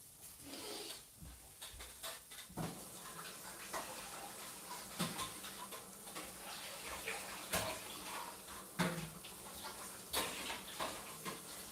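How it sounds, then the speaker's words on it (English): Tap water runs over a metal grater being rinsed in a kitchen sink, a faint steady splashing with occasional clinks and knocks. "Let me rinse this out real quick."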